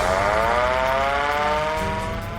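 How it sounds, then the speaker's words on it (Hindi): A loud civil-defense air strike alert siren wails steadily during a mock drill in India, keeping going for the whole stretch, its tone holding high and sustained with no voices over it. "एयर स्ट्राइक अलर्ट अलार्म बजा"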